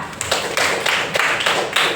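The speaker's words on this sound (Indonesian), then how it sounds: "Tepuk tangan yang udah punya Instagram" Schoolchildren in a classroom clap their hands together, several bursts of brisk, close, overlapping clapping with short pauses between them.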